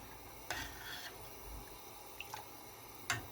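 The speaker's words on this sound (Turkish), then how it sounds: "Şöyle sütümün içerisine ekliyorum. Karıştırıyorum." Rice is stirred into milk in a pot for Turkish rice pudding, giving faint, soft swishing and a few light scrapes close by in an otherwise quiet kitchen.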